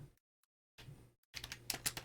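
Typing on a computer keyboard at a desk during a game development session: a short burst of clicks, a pause, then a denser flurry of close, crisp keystrokes.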